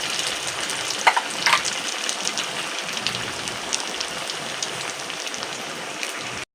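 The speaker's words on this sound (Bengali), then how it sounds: "এক এক করে আমি দিয়ে দিচ্ছি তেলের মধ্যে। আর তেলটাকে মিডিয়াম রেখে ভেজে নিতে হবে।" Semolina and raw potato snacks deep-frying in medium-hot oil, a steady dense crackling hiss throughout with a couple of sharper spatters early on, close and continuous with no talking.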